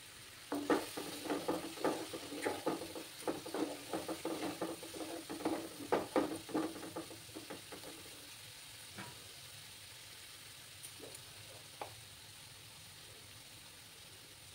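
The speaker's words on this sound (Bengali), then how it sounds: "আর একটু জল দিলাম। দিয়ে ভালো করে আমি কষিয়ে নেব।" Egg curry masala for egg do-peyaja is sautéed with a splash of water, giving quiet, rhythmic spatula scrapes and soft sizzling up close. The stirring thins out to occasional taps after about eight seconds.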